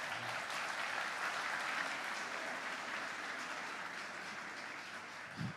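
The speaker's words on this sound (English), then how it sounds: "can we hear a round of applause for the guys?" Sustained audience applause fills a discussion-event room, a steady dense wash of clapping at moderate level that carries on for several seconds before tapering slightly.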